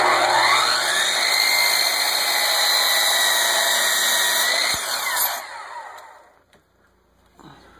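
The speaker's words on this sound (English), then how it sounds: "I've got it so tight that you can actually shave that line in half with the saw." A saw cuts steadily through a wooden strut for a 3V geodesic dome, a loud continuous whine for about five seconds before winding down and fading to quiet, with no talking.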